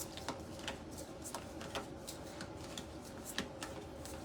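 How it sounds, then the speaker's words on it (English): Tarot or oracle cards shuffled by hand during a new moon ritual, giving a steady run of soft riffling flicks and taps, close and quiet, with no voices. "So I just shuffle until I feel complete."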